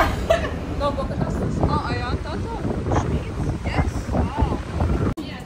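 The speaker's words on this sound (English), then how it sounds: "It's super windy over here" Strong wind buffets the microphone in a continuous roar at a seaside spot with boats nearby, with people talking over it throughout.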